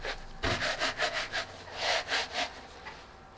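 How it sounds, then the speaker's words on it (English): A plastic bucket pushed and twisted down into a homemade self-watering planter, rhythmic rasping scrapes of plastic rubbing plastic, about eight strokes in a row, close and moderately loud, with no talking. "take this bucket, place it inside, try to get it in the middle, and then work this guy down"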